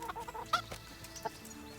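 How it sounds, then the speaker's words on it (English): Chickens cluck in the town of Rattay in the video game Kingdom Come: Deliverance, a few short, clear clucks, one louder near the middle, over quiet game ambience with no talking. "Hello, chickens!"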